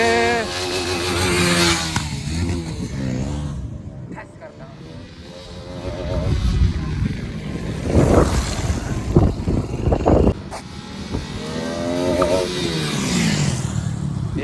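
A Bajaj Pulsar 220 motorcycle revs hard during a long wheelie, its engine rising and falling in pitch across several throttle pulls, loud and close with wind noise and voices mixed in.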